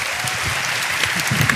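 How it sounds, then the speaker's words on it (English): Audience clapping after a talk on the science of psychedelics, a dense, steady wash of applause from a full room lasting under two seconds. "let's give a round of applause"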